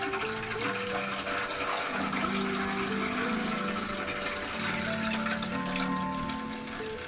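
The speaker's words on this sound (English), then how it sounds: "Let's get that water back flowing." Water rushes steadily back into a toilet after a leak repair, a continuous hissing flow with a low, shifting tonal hum from the filling tank, with no talking.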